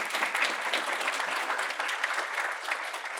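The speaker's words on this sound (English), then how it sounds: "can we give a round of applause for the students" Loud, sustained applause from a sizable crowd, steady clapping filling the whole moment with no pauses.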